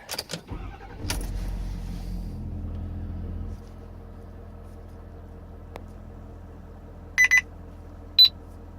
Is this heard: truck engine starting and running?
yes